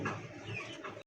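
A Giribaj pigeon cooing, a single short, soft, muffled coo heard close by, with faint background noise.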